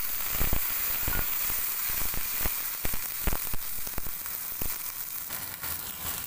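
Onions brown in a pot with a steady, close sizzle and scattered small pops and crackles. Nobody speaks.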